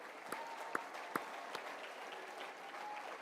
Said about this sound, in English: Many thanks and big clap,